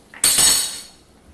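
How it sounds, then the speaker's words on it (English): A pot of creamy mushroom risotto with cheese and parsley being stirred over a lowered flame gives one sharp, close metallic clank that rings briefly and fades within about half a second, with no talking. "And keep stirring."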